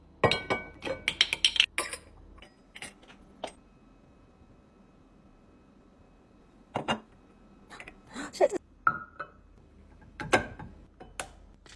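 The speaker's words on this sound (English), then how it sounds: "I'm going to be transferring them to these glass jars." Olive oil is transferred from bottles into glass jars in a kitchen, with sharp glass clinks, clatters and mechanical clicks of handling coming in scattered bursts between quiet stretches.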